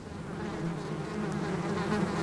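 Bees buzz in a steady, dense drone throughout, close and continuous with no break, the hum holding level from start to finish.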